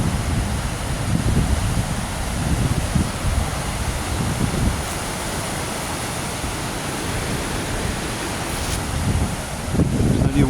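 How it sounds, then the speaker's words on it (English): Wind buffets the microphone beside rushing river water at a salmon leap on a rocky stretch of the Weardale river, a steady broadband roar with gusty low rumbles swelling at the start and end, no talking. "We are at the salmon leap, trying to keep out of the wind."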